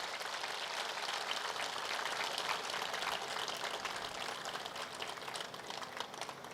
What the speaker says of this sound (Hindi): आप सब जोरदार तालियों से दीदी का स्वागत करें